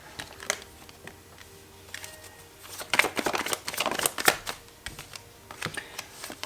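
Tarot cards being shuffled, a series of quick dry riffling clicks and flutters in irregular bursts, close and fairly quiet, busiest in the middle.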